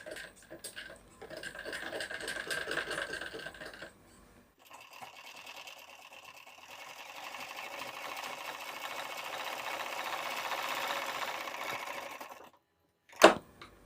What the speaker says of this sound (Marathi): तर आपण एका पट्टीला शिलाई देऊन घेतली आहे